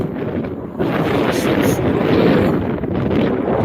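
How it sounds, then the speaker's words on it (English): Strong wind buffets the microphone outdoors on temple grounds, a loud, continuous roar that swells and eases without a break. "there's a lot of wind"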